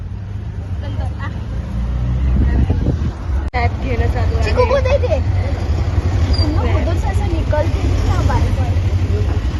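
Ride in an auto rickshaw on the way to Aksa beach, a droning engine and road rumble underneath people chatting, with a sharp click partway through.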